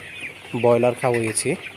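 Sonali chickens on a poultry farm give a few short clucks up close, three quick bursts over a quiet background.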